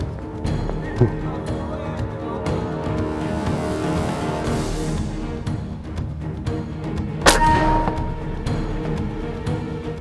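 An airgun fires at a javelina across a brushy Arizona canyon, a single sharp crack far out in open air, with quiet outdoor ambience and a brief earlier tap around it.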